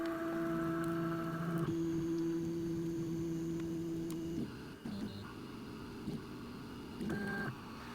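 A Makera Carvera Air desktop CNC machine probes the heights of its probe and bed. Steady motor whine and electronic tones hold for several seconds, then stop-start mechanical movements and short clicks follow, close and moderately loud.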